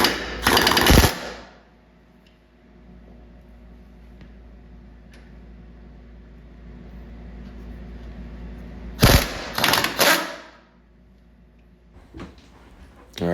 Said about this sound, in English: I'm going to use an impact on that 17 millimeter bolt to loosen that up